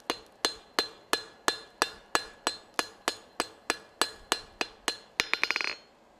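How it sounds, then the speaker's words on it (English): Metal hammer blows ring out on a rivet being rounded off at a live forging demonstration, about fifteen sharp, evenly spaced clinks, ending in a quick flurry of lighter taps and a ringing tail. "All right, drive this down. Round that rivet off."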